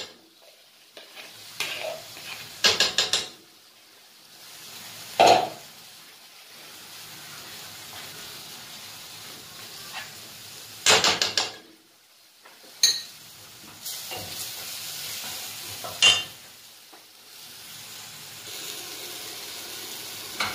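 Chicken masala simmering and stirred in a pan, a steady low sizzle broken by several louder stirring and scraping bursts, close by with no talking.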